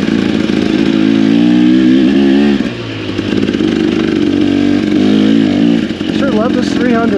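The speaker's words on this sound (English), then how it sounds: "Love this 300, man. What a bike. I'm doing this in second gear." A 300 dirt bike engine drones steadily in second gear along a single-track trail near Baumgartner, Idaho, loud and close with pitch wavering as the throttle shifts, while someone talks over it.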